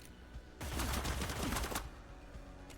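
Burst of rapid gunfire in the video game Cyber Knights: Flashpoint, a dense volley of shots lasting about a second, fairly quiet, over a low game background.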